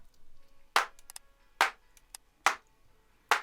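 Four processed clap samples in a music mix, sharp bright hits evenly spaced about every 0.85 seconds with short tails, separated by softer ticks and quiet rhythmic elements between them.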